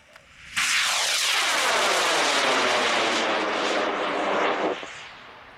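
A small model rocket, an Adventurer 3 on a K360 motor, blasts off from the pad with a loud, sudden roaring rush that holds steady for about four seconds and then fades away, with no talk.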